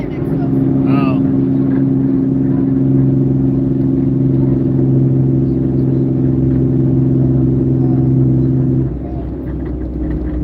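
Heavy semi truck rolling alongside in the next lane on a highway, a steady loud low engine and tire rumble heard from inside a car for most of the stretch, easing off near the end, with people talking in the cabin.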